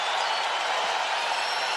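Steady, dense wash of arena crowd noise at a UFC event, fans rising to their feet and applauding after a knockdown; continuous and loud, filling the space without a break.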